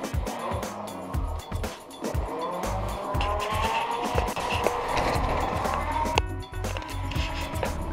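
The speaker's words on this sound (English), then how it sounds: "Smoky burnout." A Razor scooter does a smoky skidding burnout, its wheel scraping and squealing in rough, wavering bursts along with thumps and clatter, all loud and close.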